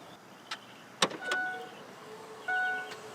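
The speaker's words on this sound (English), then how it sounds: "You can do the kick underneath the bumper to help open up that hatch." The power tailgate of a 2019 Mercedes-AMG E63 S Wagon opens after a kick under the rear bumper. A few sharp clicks come first, then two short motor whirs with a high electric whine, close by and with no talk.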